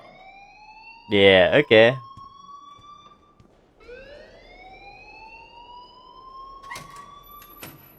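In Life is Strange, a school alarm sounds as a rising, wailing electronic tone that repeats in long sweeps, heard after a short burst of speech.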